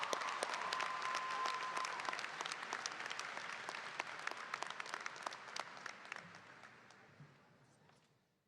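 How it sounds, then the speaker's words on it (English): Audience applause at a 2022 Denmark High School graduation ceremony: dense sustained clapping from a crowd that tapers off and fades out over about eight seconds. "Let's give a round of applause for our salutatorians, Rahithi Desari."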